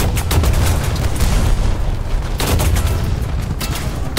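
Heavy gunfire and booming impacts hammer a Merkava Mk1 tank in the War Thunder video game, a dense, loud, continuous barrage with a brief lull partway through.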